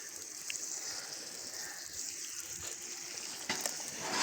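Steady broadband water rush from irrigation flowing into a home garden bed planted with coriander and greens, a continuous close gushing hiss with a brief louder splash near the end, no voices.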